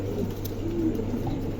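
Two Andalusian pigeons coo softly in a steady, low murmur, close by, amid a pigeon-market setting with a constant background hum.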